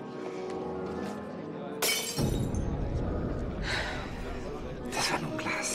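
A drinking glass shatters with a sudden bright crash, followed by scattering fragments, amid ongoing indoor room noise and movement.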